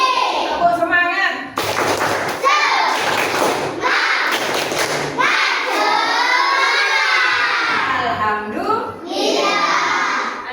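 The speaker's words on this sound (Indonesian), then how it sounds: "Tepuk semangat." A class of young schoolchildren claps out a rhythmic chant together, loud thumping claps in bursts alternating with their shouted, sung voices close by.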